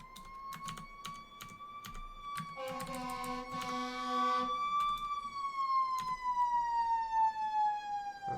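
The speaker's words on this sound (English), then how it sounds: "I think there's an ambulance passing by or something. Perhaps a fire truck." An ambulance or fire truck siren wails in long sweeping tones, rising and falling as it passes at moderate distance, with soft clicking taps in the background.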